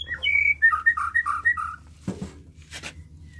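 White-rumped shama (murai batu) chicks give a quick series of high, thin chirps in close succession. A couple of soft knocks and rustles follow in an otherwise quiet indoor setting.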